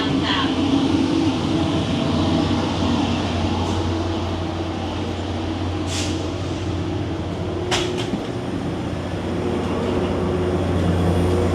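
Tri-Rail express commuter train riding toward MiamiCentral Station in downtown Miami, heard from inside the car as a steady, loud rolling rumble with a few brief high squeaks and clicks partway through.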